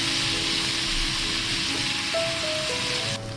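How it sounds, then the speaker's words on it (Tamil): Cubes of paneer frying in a kadai until golden brown give off a continuous loud, even sizzle that cuts off abruptly near the end. "அது கூடவே 200 கிராம் க்யூப்ஸாக நறுக்கி வச்ச பன்னீரையும் நம்ம போட்டு கோல்டன் ப்ரௌன் ஆகிற வரைக்கும் ஃப்ரை பண்ணணும்."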